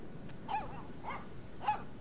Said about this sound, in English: Good doggy.